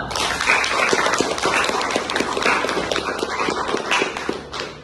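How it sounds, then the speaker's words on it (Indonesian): Audience applause breaking out after a presentation session at an event, a dense, loud, steady patter of many hands clapping continuously throughout, with no talk over it. "Berikan tepuk tangan untuk mereka semua"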